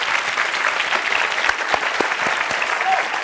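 Studio audience on the French game show Qui veut gagner des millions applauds a contestant, a dense, even wash of clapping that continues for the whole stretch with a few sharper claps standing out.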